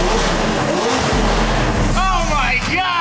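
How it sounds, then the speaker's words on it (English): A baby blue McLaren with butterfly doors revs hard and loud, a dense roaring engine note that climbs in pitch toward the end, close up and continuous, with voices over it. "an engine that sounds like this"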